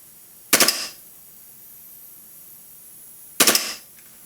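A WE G18C gas airsoft pistol, a Glock 18C-style replica, dry-fired without BBs: two short, sharp rapid bursts of a few cracking shots each, about three seconds apart, loud and close over a quiet background.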